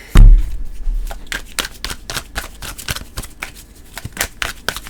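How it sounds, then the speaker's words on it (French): Oracle cards being shuffled by hand: a sharp tap on the table, then a rapid run of crisp, close riffling flicks, loud and alone. "On va prendre une carte d'oracle."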